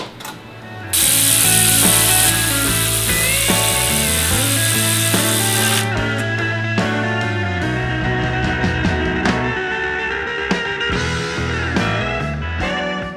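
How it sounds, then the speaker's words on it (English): A ratchet wrench clicks rapidly and repeatedly while working on flex plate bolts in a car, the metallic ratcheting loud and close, with bursts of cranking and pauses between runs. "it's going to be fun trying to get these flex plate bolts out."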